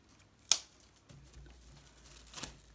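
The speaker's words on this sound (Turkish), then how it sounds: "İpi kesiyorum." Scissors snip through crochet yarn once in a sharp close click, followed by faint rustling and a second softer snip near the end.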